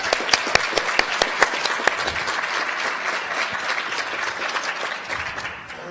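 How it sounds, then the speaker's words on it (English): Audience members at a spring conference on criminal justice involvement of families break into dense, crackling applause. The claps ring out loud and sharp at first, then blur into a steady patter that slowly fades. "Let's give Emily another round of applause."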